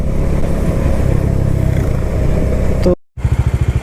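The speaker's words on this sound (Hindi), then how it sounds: "बाइक चल रही है ठीक ठाक" A motorcycle runs along an open road in India on a trip from Kurukshetra toward Srinagar, Uttarakhand, its engine a loud steady drone with wind rush, cutting out briefly before returning as rapid throbbing pulses.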